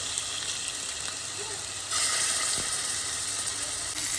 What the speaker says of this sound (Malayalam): നമുക്ക് ഇതിലേക്ക് ചിക്കൻ ഫ്രൈ ചെയ്തെടുക്കാം